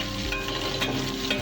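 Carrots and beans fry and get stirred in a pan for vegetable pulao, giving a steady close sizzle with faint scraping, and no voices.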